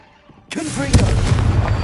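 A Confringo blast curse explodes in Hogwarts Legacy, a sudden loud burst that leaves a dense, rumbling roar which fills the rest of the short moment.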